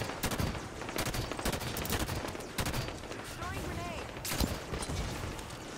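Dense automatic weapon fire and explosions in Halo 5 multiplayer, a continuous loud barrage of rapid shots with booms and sci-fi weapon whines layered together.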